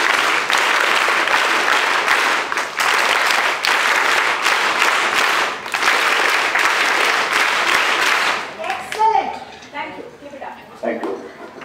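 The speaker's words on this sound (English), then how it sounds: "So the special round of claps will go three times consecutively." A crowd claps steadily and loudly for about eight seconds, then the applause breaks into scattered, uneven claps before fading.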